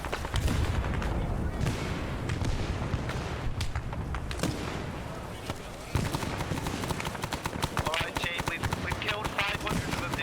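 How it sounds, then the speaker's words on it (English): Rapid, dense bursts of gunfire and booming grenade explosions from a video game battle, loud and nearly continuous throughout with little pause between blasts. "I throw a grenade in every clockwork direction"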